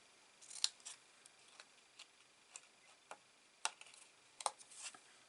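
Scissors cut paper while a small treat cup is mitered, giving a series of sparse, crisp snips spaced irregularly and heard close but quietly, with only faint background noise.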